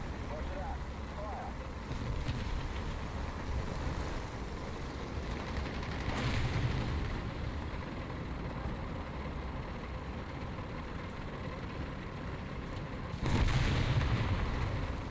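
Artillery fire in a tank video game, with two heavy booming blasts several seconds apart over a constant low engine rumble, while a voice talks over the action.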